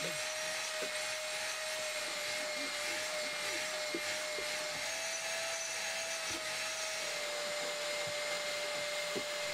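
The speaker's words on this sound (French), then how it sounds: "c'est le meilleur moment pour passer l'aspirateur." A vacuum cleaner runs steadily inside a Mercedes 190E 2.5-16 interior with a seat removed, giving a constant high whine with a sustained tone and small bumps from the nozzle moving over surfaces.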